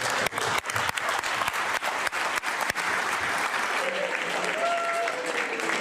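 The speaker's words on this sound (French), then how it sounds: "il a été chaudement applaudi par des dizaines d'employés de la CAQ" Dozens of CAQ party employees applaud warmly in a dense, sustained burst, with a few sharp louder claps near the front early on and murmured voices blending in as it continues.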